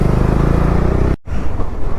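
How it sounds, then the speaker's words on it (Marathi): A motorcycle overtakes on a valley road at night: a loud, steady engine drone close by, broken by a short gap, then resuming as road noise. "ह्यांना ओव्हरटेक घे रे सॅम"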